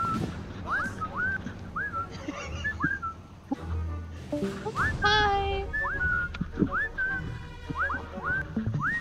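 Whistling in a World War II-style shooter game: repeated short rising whistle calls, fairly close and clear, recurring in clusters with a brief exchange of brighter tones, while a voice briefly speaks over game background noise.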